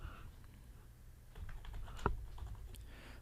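Quiet typing on a computer keyboard while working in Figma: a few light key clicks close by, with one sharper tap standing out, over faint room hiss.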